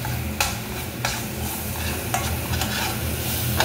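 Curry sautéing in oil in a pan before potatoes go in: dense, close crackling sizzle with several sharp stirring scrapes spaced through the few seconds.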